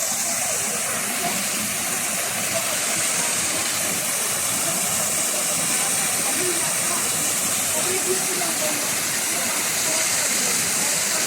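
A water feature in Shatin Park, Hong Kong, rushes in a steady, loud, unbroken wash of falling water that stays even throughout, with no pauses.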